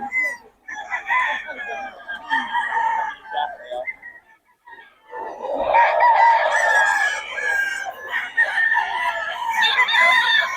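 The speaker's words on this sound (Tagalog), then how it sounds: "Mga manok ni Boss Ray." Several roosters crow in turn at a festival expo, loud and close, with overlapping calls and some clucking; a second burst of crowing grows fuller and louder toward the end.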